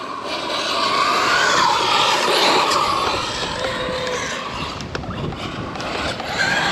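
An Arrma Typhon 223s RC car whines through a tight turn outdoors, its motor and tires producing a loud, gritty rush that swells and fades with brief clicks and scrapes along the way.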